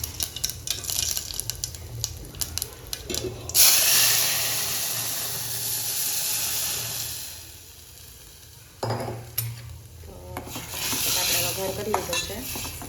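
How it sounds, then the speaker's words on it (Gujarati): Hot oil sizzles loudly as dal is tempered, with a sharp burst of spitting around the 3.5-second mark that then settles into a steady hiss. Stirring and light clinks of a pan run through it, and no one speaks. "અહીંયા જો હું દાળનો વઘાર કરી રહી છું."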